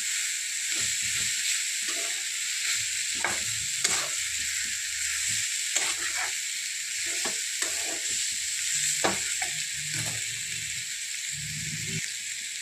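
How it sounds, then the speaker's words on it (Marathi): Sliced bitter gourd sizzles in a hot pan while a spatula stirs and mixes it, bursts of scraping and clatter over a constant close hiss of frying. "आता टाकत आहोत कारले। छान मिक्स करून घ्यायचं"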